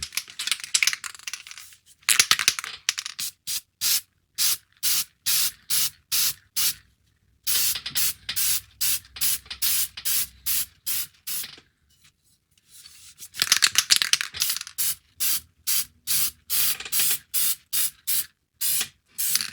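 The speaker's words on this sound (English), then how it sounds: "So why don't we go ahead and we're going to paint these." Short repeated bursts of an aerosol can spray light gray paint onto starship model parts. The hisses come in quick rhythmic pulses, close and loud, with two longer pauses between the runs.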